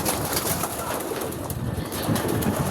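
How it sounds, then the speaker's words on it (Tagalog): Pet pigeons crowding into their coop at feeding time, a dense steady wash of cooing and rustling wings from many birds close by, loud and continuous with no talk. "Nagpasukan ng mga ibon natin."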